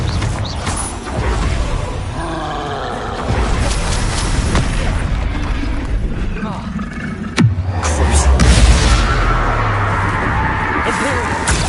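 Confringo spell blasts in Hogwarts Legacy land as booming explosions amid spell effects and combat noise, with a sharp burst near the middle followed by rumbling, under frequent spoken incantations.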